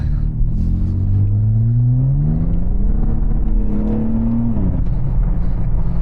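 A 2023 Nissan Z with a MAPerformance cat-back exhaust revs up through a rising exhaust roar, holds, then drops back to a deep, steady idle rumble.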